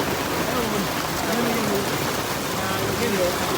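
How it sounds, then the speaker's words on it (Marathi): Heavy rain pours down in a steady, dense hiss of drops hitting surfaces, unbroken and fairly loud for the whole stretch. "पाऊस काय कमी होईना"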